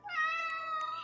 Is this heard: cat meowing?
yes